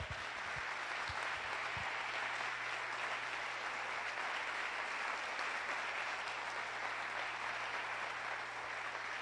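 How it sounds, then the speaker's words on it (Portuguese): A church congregation at a worship service applauds, producing steady, continuous distant clapping that stays even for the whole stretch, with faint voices underneath. "Aplauda o Senhor."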